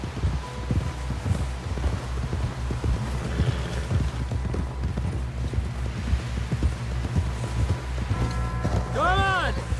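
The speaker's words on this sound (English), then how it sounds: "Someone help John down off this horse." Horse hooves clopping in a rapid, uneven rhythm in the video game Red Dead Redemption, close and continuous, with a voice speaking over it and a brief musical tone near the end.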